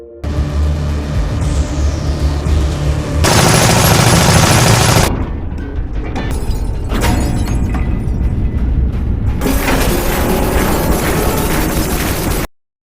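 Loud gunfire and explosive blasts in a post-apocalyptic film scene, with dense, sustained bursts of shots and bangs filling nearly the whole clip and no talk.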